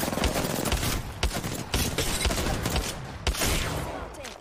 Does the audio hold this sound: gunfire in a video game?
yes